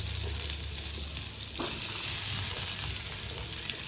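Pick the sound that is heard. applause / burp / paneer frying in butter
paneer frying in butter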